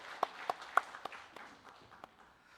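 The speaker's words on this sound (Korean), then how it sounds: "계속 더 잘해주시라고 우리 박수를 한번 더 격려하겠습니다" A church congregation in a Sunday worship service claps for the choir, a sparse, faint scattering of separate claps that quickly thins out, with no voices over it.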